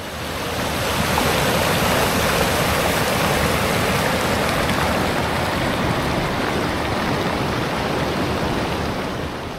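A river swollen after rain rushes over rocks near Simultala, Bihar, giving a steady, dense roar of flowing water that stays loud and unbroken throughout, with no voices.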